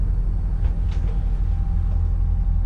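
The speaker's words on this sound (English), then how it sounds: "you can tell it's a wing engine because we've got the wet exhaust going" A four-cylinder wing engine on a Nordhavn 47 runs with its wet exhaust going, while the main engine also runs, giving a steady, smooth low rumble that holds even and unbroken throughout.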